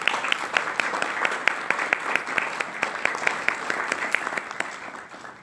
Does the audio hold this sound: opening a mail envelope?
no